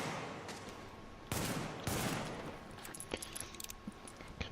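Pistol fire in The Division: a few sharp shots near the start, then a burst of scattered crackling impacts and smaller pops trailing off, moderately loud with no talking.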